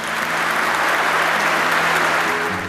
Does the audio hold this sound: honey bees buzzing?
no